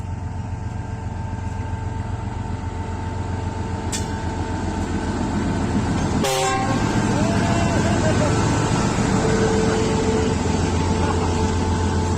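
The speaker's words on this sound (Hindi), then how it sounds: "बहुत पावरफुल हॉर्न।" Heavy rumbling of a Pakistan Railways diesel locomotive with a sharp blast of its horn partway through, loud and close, amid steady traffic-like din at a railway junction.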